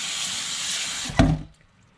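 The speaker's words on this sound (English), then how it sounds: "I'm just gonna rinse it off with some water" Running tap water splashes over raw tail-on shrimp being rinsed before stuffing with crab, a steady broad hiss for about a second that ends in a short splashy burst, then fades to quiet.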